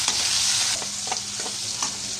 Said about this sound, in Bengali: চিংড়ি মাছ দিয়ে একটু ভালো করে তাহলে আমি একটু ভাজা লই পেঁয়াজের লগে